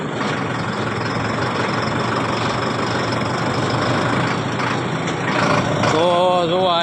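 A farm tractor engine idling on a village road, a loud continuous low rumble with a steady knocking throb that holds throughout.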